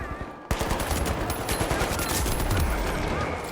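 Rapid automatic gunfire in The Finals, beginning with an abrupt onset and continuing as a steady, loud stream of shots with bright ringing tails.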